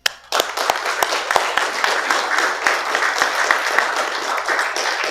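An audience applauds state police investigators at a West Virginia governor's press event: dense, sustained clapping that starts abruptly after a brief pause and holds at a steady, fairly loud level throughout.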